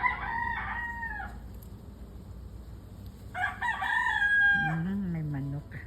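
A neighbour's pet rooster crows twice nearby, the second call longer and clearer, followed by a low voice-like tone at the end.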